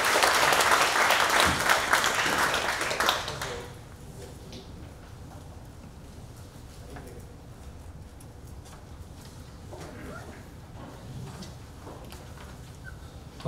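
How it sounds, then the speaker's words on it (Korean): Applause from a lecture audience welcoming a speaker rings loudly for about three seconds, then fades into quiet room murmur and small rustles. "박수로 맞아주시고"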